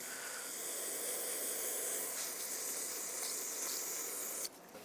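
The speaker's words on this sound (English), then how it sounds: "Use some brake parts cleaner to degrease the threads here." Brake parts cleaner sprays from an aerosol can onto rusty rear brake threads on a 2007-2010 Chrysler Sebring: a close, continuous hiss lasting about four and a half seconds, then cutting off abruptly.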